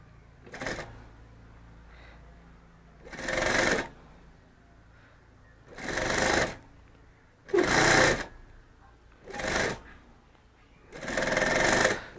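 A sewing machine stitching fabric for a handmade bag in six short bursts separated by quiet pauses, each a close, brisk mechanical rattle lasting about a second.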